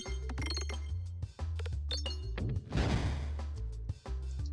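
Ball shot in the Peglin video game ricochets off pegs with a rapid run of bright glassy clinks and pings, dense at first, then a brief crunchy burst and scattered final hits.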